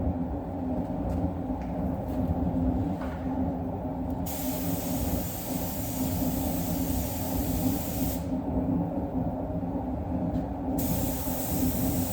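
Clear coat blender solvent sprayed onto car paint while fading a repair: a steady, continuous hiss of the spray gun close up, with no pauses over the whole stretch and no talking.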